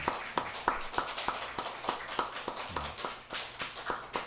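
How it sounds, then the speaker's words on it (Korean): A church congregation claps in thanks for the Hosanna choir, distinct rhythmic hand claps at a steady beat, fairly close, with a faint voice briefly underneath. "은혜로운 찬양으로 하나님께 영광을 돌린 우리 호산나 찬양대에게도 감사의 박수하도록 하죠"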